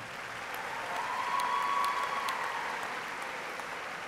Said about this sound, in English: please join me in showing your appreciation for these very important people in your lives with a generous round of applause